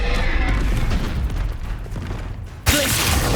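An Incendio fire spell cast in Hogwarts Legacy: a loud, rumbling blast with a burst of noise trails off, then a second sudden, sharp flare of sound hits near the end, close and forceful among other combat sounds.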